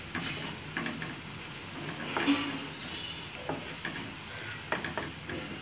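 Prawn pepper fry with curry leaves sizzling in a pan while being stirred, with a steady crackle and intermittent scraping strokes of the spoon, close and moderately loud, no voices.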